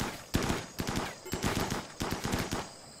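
Colonists in RimWorld firing guns, a rapid series of sharp gunshots in several bursts, loud and close with no talk over them.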